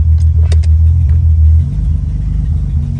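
A car engine rumbles loudly and steadily up close, its tone dropping and shifting as the car is put in gear and pulls away; no talking.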